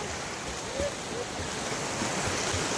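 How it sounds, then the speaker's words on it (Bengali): Strong river current rushing steadily at Shivgadi in Jharkhand, a broad continuous wash of water noise with wind buffeting the microphone, no talk over it. "এই দেখো সেই জলের স্রোত।"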